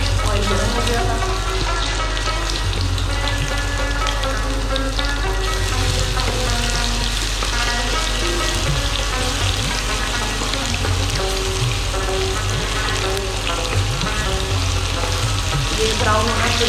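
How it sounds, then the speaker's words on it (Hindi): Garlic and ginger paste fries in hot oil in a home kitchen, giving a loud, continuous crackling sizzle with occasional stirring scrapes. "अब ये ऑयल गर्म हो गया है तो मैं इसमें लहसुन और अदरक का पेस्ट डालूँ"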